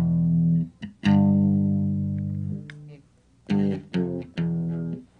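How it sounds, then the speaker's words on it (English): Electric guitar played through a Boss DD-7 delay pedal on its own, giving sustained, slightly tinny notes that ring out, pause, then return as a few shorter repeated strums with trailing echoes. "From the delay you get more of a metal, heavy tin sound. Like I'll show you that just alone with the delay."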